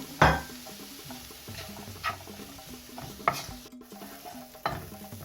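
Ginger, green chilli and curry leaves sautéing in a pan for a beef cutlet mixture, with a soft sizzle under several distinct clanks and scrapes of a spoon against the pan, no talking.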